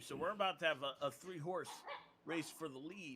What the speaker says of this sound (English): excuse my dog in the background there